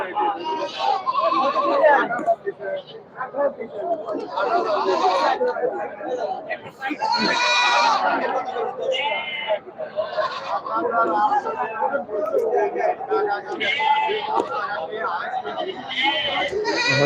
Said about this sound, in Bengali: দেখেন কি পরিমাণ ছাগল উঠছে আমাদের হাতে